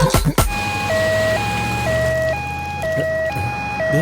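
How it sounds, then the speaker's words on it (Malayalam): An ambulance siren alternates between two tones in a steady high-low pattern, loud and close, after a couple of brief thumps at the start. "ആംബുലൻസ്."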